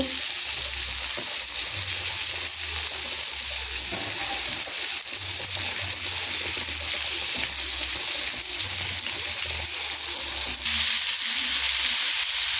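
Tomato fry with coriander leaves sizzles steadily in a pan, a constant close hissing that grows a little louder toward the end.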